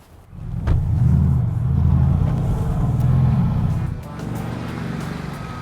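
Deep, loud engine rumble from a Mercedes AMG GT S on the move, its exhaust note swelling as it accelerates, then easing to a steadier drone, with no speech.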